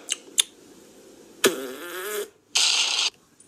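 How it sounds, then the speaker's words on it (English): A loud, close fart, a buzzy blast lasting under a second, followed after a short gap by a hissing burst of air, with a couple of sharp clicks before it. "So he farted and it blew."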